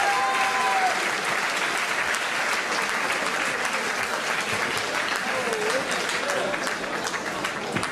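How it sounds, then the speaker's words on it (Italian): A crowd at a fight event gives sustained, dense applause. The clapping runs at an even level throughout, with faint voices mixed into the noise. "Un applauso."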